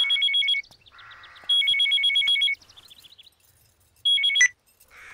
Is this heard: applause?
no